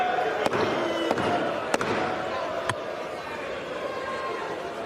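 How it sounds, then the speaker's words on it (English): A gavel banged on the rostrum in the House chamber, a few sharp isolated strikes spaced unevenly over a loud, continuous backdrop of crowd noise and shouting voices. "Looked fun banging that gavel, didn't it?"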